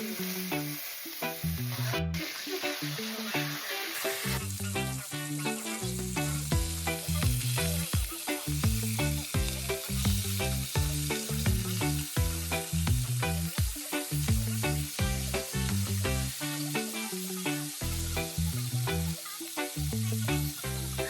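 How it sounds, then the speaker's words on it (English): Beef short ribs searing in olive oil in a narrow Dutch oven, a steady, close sizzle with a repeating rhythmic pattern of bubbling and spitting that runs throughout. "Just make sure you sear your meat until it's nice and brown on all sides."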